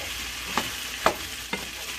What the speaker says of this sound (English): Okay, so I mix all vegetables here.